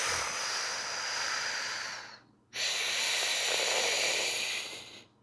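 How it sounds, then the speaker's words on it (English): A deep, breathy exhalation during a bracing breathing exercise: a long airy hiss, a short pause, then another long hissing breath, close and steady. "I'm breathing all the way out."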